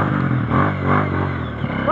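An off-road motorcycle rides past on a dry trail, its engine a loud, close, rough drone that swells and fades across two seconds, with voices talking over it.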